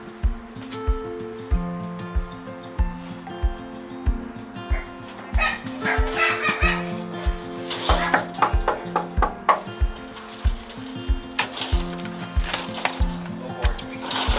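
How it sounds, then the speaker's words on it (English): Two dogs named Redland and Lucy bark repeatedly after a doorbell rings at home, with loud close woofs in an irregular rhythm, some yips and whimpers, and bursts of rapid barking toward the end. "if they're gonna bark when I ring the doorbell"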